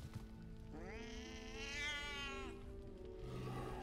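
A single drawn-out cat meow from a video game character, rising and falling over about two seconds against steady background music, with no talk over it.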